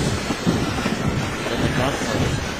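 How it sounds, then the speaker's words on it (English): Steady rumbling steam engine noise puffing out of a station, with a continuous low churn and rolling texture, close and fairly loud throughout, no distinct whistle or voices. "So Henry puffed cautiously out of the Catholic station, but he didn't realize that he had no driver"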